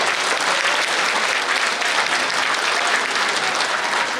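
A crowd claps steadily and loudly, a dense, even wash of applause with no pauses.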